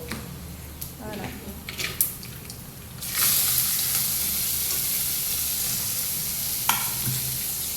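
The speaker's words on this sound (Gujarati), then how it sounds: "નોર્મલ વઘાર કરી દઈએ કરી દીધું રેગ્યુલર આપણે" Spices crackle and sizzle in hot oil as the tempering for batata poha, made with chillies, peanuts and curry leaves, begins: an abrupt loud burst of frying that settles into a steady hiss after a few earlier clinks and stirring sounds.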